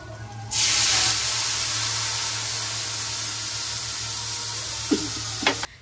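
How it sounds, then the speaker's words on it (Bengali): Spice paste frying in hot oil as it is cooked down for a potato and cauliflower curry, a loud, even sizzle that bursts in suddenly and hisses steadily, with a couple of brief stirring clinks near the end. "দেখো মশলাটা ভালো করে কষিয়ে নিচ্ছি।"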